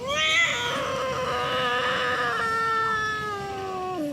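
An injured cat, recently run over by a car wheel, yowls and caterwauls in pain during an abdominal exam at a vet clinic: one loud, sustained, wavering cry close up that bends in pitch and drops at the end, with no talk.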